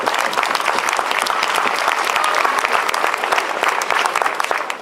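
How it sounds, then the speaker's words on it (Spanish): Dense, steady applause from a live audience fills the whole stretch, many hands clapping loudly and continuously at an event honoring Ramón de Moncada. "Un aplauso para él, por favor."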